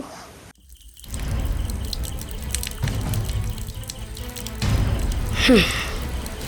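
Water drips and trickles from a tap into a sink, a steady wet patter that carries on throughout at a moderate level, with a brief quieter pause near the start.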